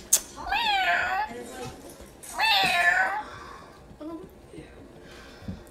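A cat gives two drawn-out meows close by, with people talking softly around it.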